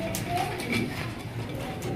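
Racer pigeons of Pakistani bloodline in a seller's loft, giving soft low coos close by against a busy background murmur, with a voice talking over part of it.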